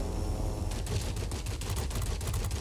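Rapid 20 mm aircraft cannon fire in World of Warplanes, a steady stuttering stream of closely spaced shots over a constant low engine drone.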